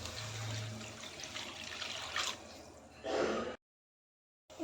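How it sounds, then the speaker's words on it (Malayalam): Water is poured into a pan of fish head curry already seasoned with chili powder, turmeric, salt and tamarind water, giving a short splashing trickle close by that swells briefly and then cuts off. "ഇനി ഇതിലേക്ക് വെള്ളം ചേർക്കാം."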